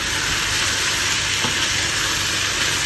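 Minced meat for a bolognese sauce frying in a pan, a steady, loud, close hiss of sizzling fat that stays constant without pause.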